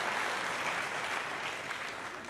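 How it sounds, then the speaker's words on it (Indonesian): A church congregation claps together in broad, steady applause that holds at an even level throughout, dense and continuous with no voices standing out. "ayo tepuk tangan semuanya"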